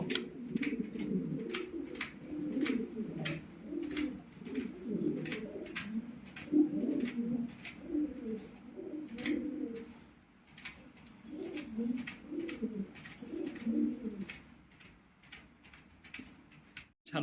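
Pigeons at a pigeon farm cooing in repeated low, throaty bursts, fairly close, with sharp ticking clicks recurring throughout and no talk.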